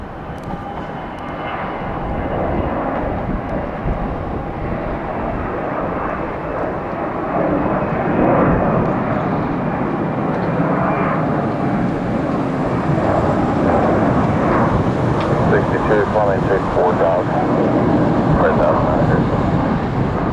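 An airliner taking off from a Tampa runway after a long ground roll, its jet engine roar building and sustaining as it climbs away, with someone talking over the noise and radio chatter in the background.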